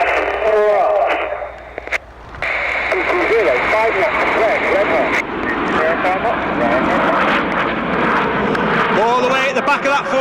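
Red Arrows jets perform the Typhoon roll at an airshow, a broad roar of aircraft engines rising and falling in the distance under continuous commentary.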